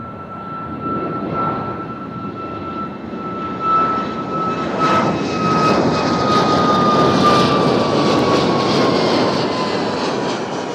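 A WestJet jet airliner at Nashville International Airport roars loudly with a steady engine whine, swelling as it passes and staying strong throughout, heard from the ground nearby.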